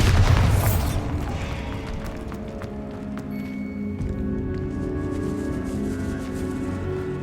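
A Bombarda explosion spell in the video game Hogwarts Legacy: one loud boom at the start that fades into a long rumbling decay with faint ringing tones.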